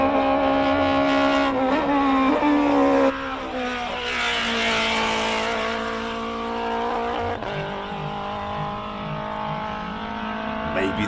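A race car engine at the Simola Hillclimb screams at high revs, loud and close, with a gearshift drop in pitch early on and a rising harmonic whine throughout, faint voices barely present beneath.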